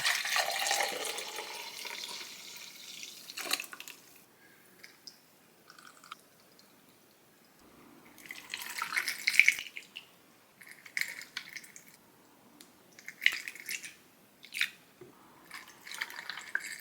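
Ginger shot juice with lemon being poured from a pan into small containers, producing intermittent bursts of trickling and dripping liquid separated by quiet pauses, close and fairly soft.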